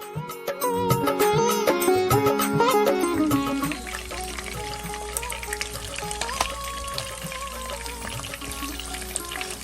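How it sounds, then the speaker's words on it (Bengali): Salt-and-turmeric-coated fish heads and tail pieces fry in a wok of hot oil over medium-high heat, a loud, dense crackling sizzle that is fiercest at first, then settles into a steadier bubbling spatter, close up and without voices. "নুন হলুদ মাখানো মাছের মাথা এবং লেজার অংশগুলো কড়াইতে দিয়ে দিচ্ছি"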